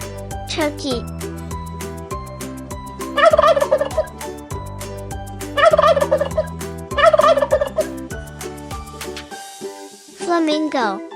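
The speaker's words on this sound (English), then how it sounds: "turkey," A turkey gobbles in several loud bursts over a bright, repeating children's music backing, with a final gobble near the end.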